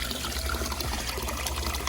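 Water pours steadily into an aquaponics tub while a siphon drains it, giving a continuous close splashing and trickling wash with a low gurgle and no voices.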